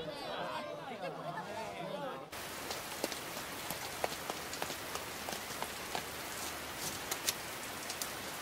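Steady rain falls in an anime scene, a dense, even patter of drops with occasional louder splashes, after a brief stretch of softer muffled background sound at the start.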